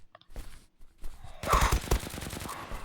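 Video-game gunfire crackles in a dense, rapid burst of close shots, preceded by a few scattered quieter clicks and footsteps.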